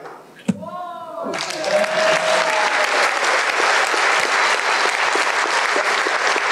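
Delegates at a FGTA-FO union congress break into loud, sustained applause after a sharp opening thump and a short tonal sweep, the clapping swelling and then holding steady for several seconds.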